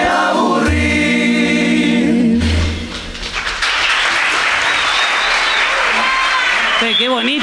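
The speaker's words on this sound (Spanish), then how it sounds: "El aplauso para mí, este aplauso para mí" An audience bursts into loud, sustained applause after someone speaks, the clapping carrying on steadily until his voice returns at the end.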